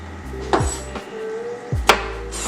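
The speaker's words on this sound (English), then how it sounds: "We're going to just cut the stems off of these jalapenos." A knife chops down onto a cutting board a few times, cutting the stems off jalapenos, giving sharp, close thuds with short pauses between.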